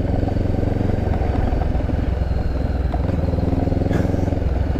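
A Honda CB500X motorcycle engine pulling from below 2,000 RPM at about half throttle: a loud, steady, close engine drone with a continuous rhythmic pulse and no talk.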